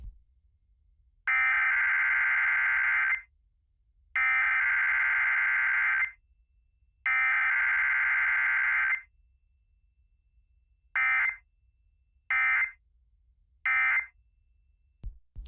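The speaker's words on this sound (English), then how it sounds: "this station will test the emergency alert system." Emergency Alert System test: three long, steady electronic alert tones separated by short gaps, followed by three brief beeps, loud and harsh over near silence.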